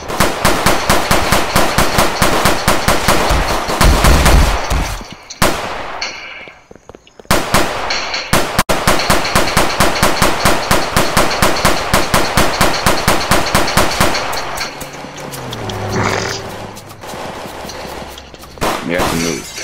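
Rapid automatic gunfire from the new gun system in the Roblox game Tha Bronx 2, loud sustained bursts of fast repeated shots with brief pauses, close and continuous.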